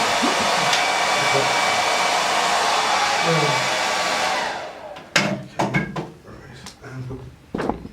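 A hair dryer blows steadily and loud to dry paint on a figure, running for about four seconds before cutting off, followed by scattered clunks and knocks of handling and brief talk.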